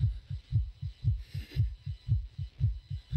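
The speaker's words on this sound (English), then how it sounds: "Maybe this loud ass fucking heartbeat will stop." Heartbeat in the horror video game Infliction, a loud, deep, steady double-thump pulse repeating at a brisk pace, close and dominant with no talking.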